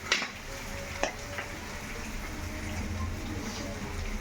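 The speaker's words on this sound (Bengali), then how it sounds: "তো সব মশলা দিয়ে দিচ্ছি, যা যা মশলা লাগে দিচ্ছি, দিয়ে ভালো করে এটা ভুনে নেব" Spices and a few curry leaves fry in oil for pumpkin chorchori, giving a faint, steady sizzle with a couple of sharp stirring clinks near the start.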